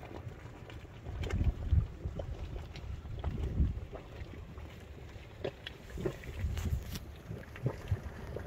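Bubbling and gurgling from a small geothermal hot spring hole in rough terrain at Hveragerdi, Iceland, heard as irregular low burbles and pops over steady wind noise on the microphone.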